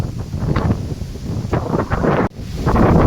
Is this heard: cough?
no